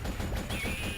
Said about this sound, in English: Turn this down if we're gonna have this gunfire